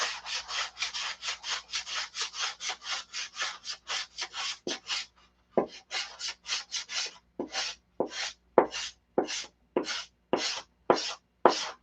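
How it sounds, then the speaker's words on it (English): Sandpaper rubs back and forth on a light wooden P-47 model cowl to take out a bump, about twenty quick rhythmic strokes that slow and spread out after a short pause, close and alone. "I'm going to have to sand this bump out of this though."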